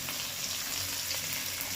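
Marinated chicken and potato hit a hot pan for a spicy picnic-style chicken curry, giving a steady, close, loud sizzle of frying that holds without a break and with no talking.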